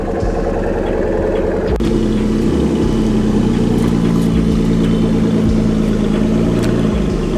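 A V8 car engine running close by, a steady, throaty low idle that shifts pitch slightly about two seconds in and then holds even, with no talking.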